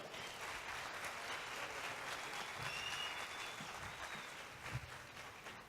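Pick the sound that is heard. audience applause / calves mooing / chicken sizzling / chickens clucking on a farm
audience applause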